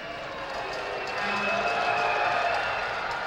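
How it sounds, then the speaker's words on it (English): Steady roar of a loud arena crowd at a basketball playoff game, a continuous wash of voices and cheering that swells slightly midway, with no distinct claps or bounces standing out. "This has been a pretty loud crowd for the Lightning tonight."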